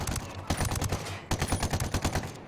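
Rapid bursts of AK rifle fire in the video game Ghost Recon Wildlands, a dense run of close, loud shots that stops for a moment near the middle and then resumes.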